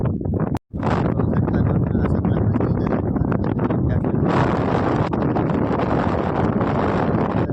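Gusty wind over a farm field buffets the microphone in a continuous roar, with a brief dropout near the start and a voice talking underneath.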